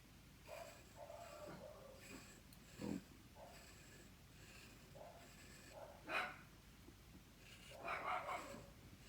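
A dog barks a few times, faint and distant, in short scattered yelps and woofs over a quiet background.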